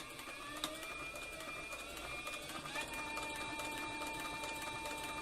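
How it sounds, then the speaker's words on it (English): A leather sewing machine with an open-toe presser foot runs steadily, stitching leather for saddle making without a guide, with a continuous whirring, whining mechanical drone. "I'm sewing without a guide. I've got the open toe pressure foot on."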